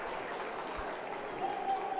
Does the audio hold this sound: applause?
yes